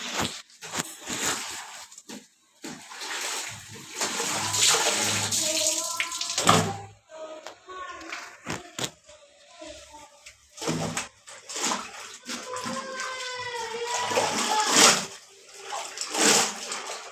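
Water sloshes and splashes as quilts are washed by hand at home, in irregular bursts of swishing and wringing with short pauses between them.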